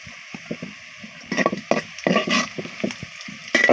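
Bay leaves dropped into hot oil in a pan with reddening onions for a home-style Bengali country duck curry, giving soft sizzling with a few stirring and scraping knocks, close and fairly quiet.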